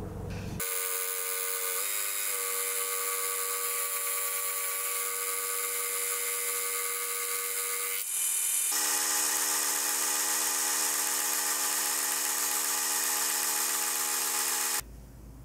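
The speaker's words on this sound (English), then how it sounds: "to do the machining, I'll be using the fly cutter with an aluminium cutting insert" A milling machine fly cutter fitted with an aluminium-grade cutting insert machines steel, giving a steady, loud high-pitched whine with dense tonal harmonics that shifts pitch partway through and runs continuously before cutting off abruptly.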